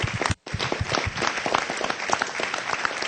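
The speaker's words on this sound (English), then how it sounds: "Round of applause, everybody." Steady, dense applause from a room full of people at a city council meeting, loud and continuous apart from a brief dropout near the start.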